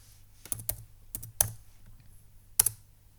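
Someone types a cd command on a Chromebook keyboard in a quiet room, a handful of crisp close key clicks arriving in small clusters with gaps between them.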